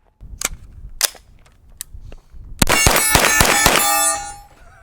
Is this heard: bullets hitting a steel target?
yes